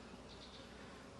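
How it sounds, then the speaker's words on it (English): Honeybees, drones among them, hum in an opened hive during a split inspection, a soft, steady buzz filling the whole moment without any talk. "There's also drone bees in here."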